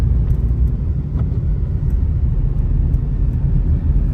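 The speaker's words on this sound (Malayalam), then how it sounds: "K S R T C Anakatti Mannarkkad ബസ്സാണ് കേട്ടോ ഇപ്പൊ പോയത്" KSRTC bus on the Anakatti–Mannarkkad route passing along a forest road in Attappadi: a loud, steady low engine rumble close by throughout, with no talk.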